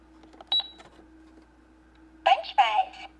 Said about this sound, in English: today I'm gonna show you this McDonald's cash register